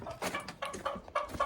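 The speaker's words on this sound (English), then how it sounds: "Here's the chickens." Chickens clucking inside a backyard chicken coop, a run of close, fairly loud clucks and short calls in uneven bursts with no talking.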